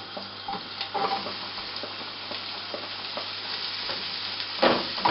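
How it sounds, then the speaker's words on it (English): Garlic and onions fry in butter with a steady, moderate sizzle, while occasional soft stirring scrapes mark the motion of a utensil through the pan. "when you see that the garlic is mixed in the butter and slightly fried, you can add the onions as well"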